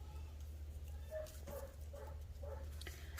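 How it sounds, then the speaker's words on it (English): A dog barks and yips several times in quick short bursts, faint and somewhat distant, over a low steady hum. "I'm sorry about the dog barking."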